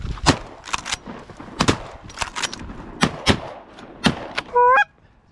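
Shotgun blasts at geese during a late-season hunt on public land: about a dozen sharp, loud shots fired in quick irregular bursts, followed by a short honking goose call at the end.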